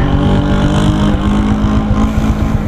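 A Rusi Royal 125 motorcycle engine idles close by with a steady, low, even chugging pulse, running smoothly and quietly throughout with no talk over it.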